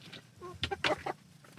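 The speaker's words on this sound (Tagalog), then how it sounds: "So ito yung mga nakabukod ko, mga tandang." Roosters kept apart in a farm pen cluck in a quick burst of short, sharp calls, close and moderately loud, with no voices over them.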